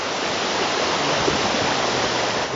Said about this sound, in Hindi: एटी देख तले पानी पड़ुची